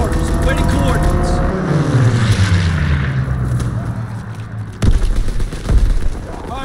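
Heavy artillery booms out in a war video game alongside engine drone and gunfire, with a loud blast near the end. A voice speaks briefly over the action.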